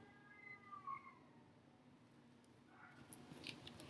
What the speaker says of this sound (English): There's like a cat crying outside.